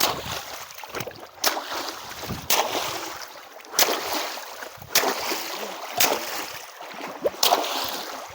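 Small fishing boat out on water during rain, with a steady broadband wash of rain and water broken by sharp, regularly spaced knocks and splashes, roughly every second or so, close by.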